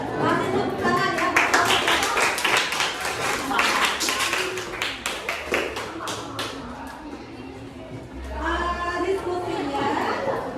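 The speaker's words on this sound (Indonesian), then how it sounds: "Masih tepuk tangan ya." An audience at an academic coaching and supervision session claps in a quick, uneven patter that thins out midway and then briefly resumes, with voices talking over it.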